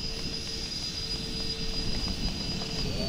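E-Flite A-10 Thunderbolt RC jet with twin 64mm electric ducted fans taxiing on grass, giving a steady, close, high-pitched fan whine with a constant rushing hum and no talk.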